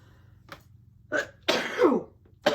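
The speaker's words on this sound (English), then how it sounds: "Sometimes when I'm channeling, I sneeze" A few short bursty vocal noises, with one loud explosive burst in the middle that sounds like a sneeze, followed by another quick burst at the end.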